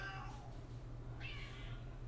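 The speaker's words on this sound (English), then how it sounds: "My cat wants attention." A house cat meows for attention twice, a soft drawn-out cry then a higher, clearer meow, over a steady low electrical hum in a quiet room.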